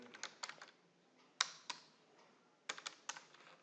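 Code typed on a computer keyboard: faint, close, irregular clusters of sharp key clicks with short pauses between bursts, with no talk.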